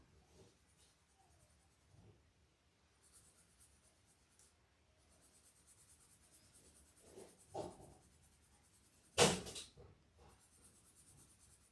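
Colored pencil, yellow, drawn across paper, giving soft scratchy strokes that are faint and intermittent, with a louder scrape near the end and no talk.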